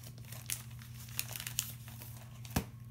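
Sticker sheets are grabbed and handled while setting up a weekly planner, giving close, crisp crinkling with a few sharp crackles over a low steady hum, loudest near the end.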